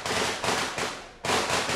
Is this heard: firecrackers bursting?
yes